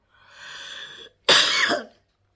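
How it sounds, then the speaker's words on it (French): Two coughs close together, the first a softer, drawn-out hacking rasp, the second a sharper, louder burst, with no talking around them. "je commence à tousser"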